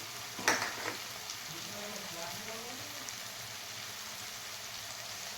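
Spices sauté in a pan for veg pulao with a soft, even sizzle. A brief crackling burst near the start suggests something hitting the hot oil, and faint speech sits in the background.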